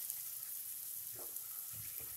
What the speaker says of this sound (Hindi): तो हम प्याज को मीडियम फ्लेम पे 4 से 5 मिनट तक भूनेंगे